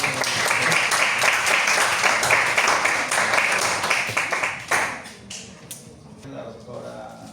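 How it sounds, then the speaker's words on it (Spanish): Students applauding at the end of a respiratory imaging practical class, with steady, fairly loud clapping for about five seconds that thins out into scattered claps and soft noise. "Un aplauso, por favor."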